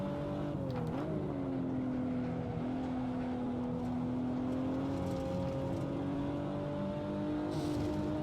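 A Toyota Supra TA90 lapping Buttonwillow in the racing game Assetto Corsa: a steady, droning engine note that dips briefly near the start, then climbs slowly and evenly, with no talking.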